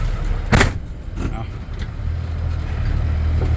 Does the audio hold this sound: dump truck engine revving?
yes